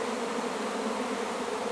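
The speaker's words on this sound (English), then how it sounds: "a few minutes ago the bees started spilling out of here" A honey bee swarm pouring out of a hive fills the air with a dense, steady buzz from many bees close by, continuous and unbroken with no voices.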